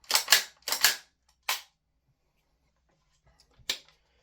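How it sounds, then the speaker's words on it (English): A Tokyo Marui AKM gas blowback airsoft rifle fitted with a stock adapter fires sharp, snappy shots: two quick pairs, a single shot, then one more after a pause, close and distinct. "So I can get a feel for the looking down the rifle while firing it."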